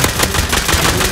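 Rapid gunfire in the Rust survival game, dense and loud with overlapping shots and no clear gaps, fired from a rooftop height during a clan fight.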